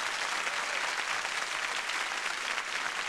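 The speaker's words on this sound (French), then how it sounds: "on peut l'applaudir" Steady, dense applause from a television studio audience, loud and continuous throughout with no voices over it.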